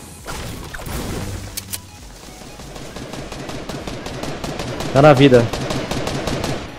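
Gunfire rings out in a shooting video game, rapid bursts of shots building to a loud flurry near the end, heard alongside someone talking in Portuguese.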